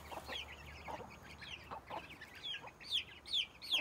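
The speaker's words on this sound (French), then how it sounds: "Le petit poussin appelle." Chickens on a poultry run: a young chick's repeated high peeping calls rise above soft, scattered hen clucks, the peeps growing louder and more frequent toward the end.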